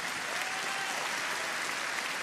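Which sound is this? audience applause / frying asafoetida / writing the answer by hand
audience applause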